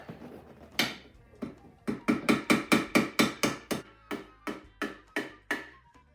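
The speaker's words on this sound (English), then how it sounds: "There's my hammer." Sharp hammer blows ring out while fitting a seat cover on a VW Sunbug front seat, a few spaced strikes and then a fast steady run of about a dozen taps, fairly close, with no talking.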